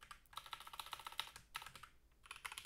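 Rapid, close keystrokes on a computer keyboard while a Python script is being written, coming in quick bursts separated by brief pauses.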